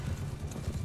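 Horse hooves pound in a quick, rhythmic clip-clop gallop in Mount & Blade 2: Bannerlord, a battle scene with horse archers, close and fairly loud over a low rumbling background.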